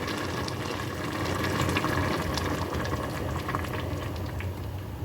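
Heavy cream pours and bubbles into a pot in a steady, gurgling stream, close by and fairly loud, with no talking.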